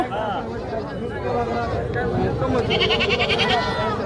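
Goats bleat repeatedly at a crowded livestock market where bucks are sold, wavering cries rising over a steady hubbub of chatter and nearby talk.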